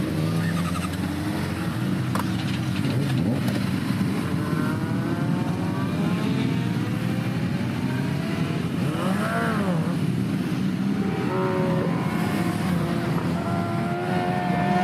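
Motorcycle engine on a racetrack, throttle blipped while the rider shifts from side to side, a steady loud roar with rising and falling revs and brief whining sweeps, continuous throughout.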